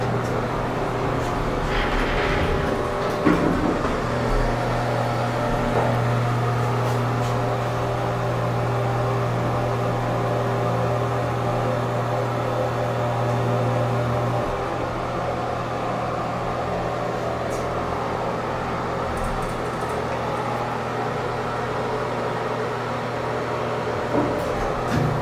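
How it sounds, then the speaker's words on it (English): Hydraulic elevator motor at a Daytona beach inn, an original General unit, runs with a steady loud hum and whine, a constant mechanical drone heard from inside the car with no talking over it. "Let's listen to the motor."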